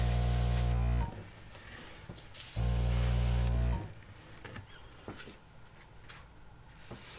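An airbrush blowing air over wet acrylic pour paint: two loud bursts of hissing air, each about a second long, then quieter handling noise.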